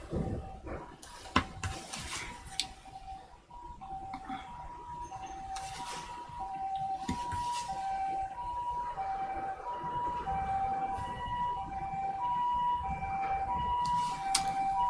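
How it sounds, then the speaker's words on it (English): An ambulance siren wails steadily in the distance over constant low traffic rumble, with a few sharper knocks and clatters nearby. "There's been ambulances all over here this morning."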